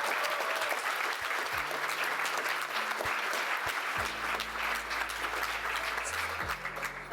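Loud, steady applause from diners at an end-of-year recognition dinner, continuous clapping throughout, with low tonal hums and buzzes cutting in partway through.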